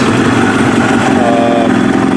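A Kawasaki ZX7R motorcycle engine idles close by after warming up, a steady low throbbing putter with no change in pace.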